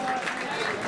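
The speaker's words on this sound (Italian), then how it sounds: "ancora un applauso alla Presidente giuria Silvia Chizio" Audience applause at a Miss Reginetta d'Italia 2016 beauty pageant selection in Veneto, a short burst of steady clapping with some crowd noise and a voice over it.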